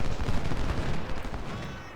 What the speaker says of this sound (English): Very good volley.